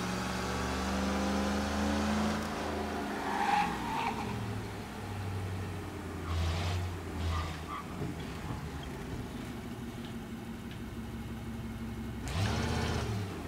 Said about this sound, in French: J'adore faire des dérapages, c'est cool, ça.